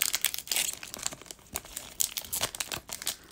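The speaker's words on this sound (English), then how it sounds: "I can't even get the pack open." Plastic wrapper of a Pokémon card booster pack crinkling and crunching in bursts as someone struggles to tear it open, close and fairly loud, with no talk.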